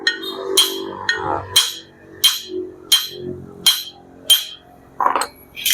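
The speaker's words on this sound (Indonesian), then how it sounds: "yang sisi sini yang kita gedor. Usahakan menggunakan palu kuningan agar ininya tidak rusak" A brass hammer knocks repeatedly on a motorcycle shift rod, eight sharp metallic strikes in a steady rhythm, loud and close with short ringing tails, no talk over them.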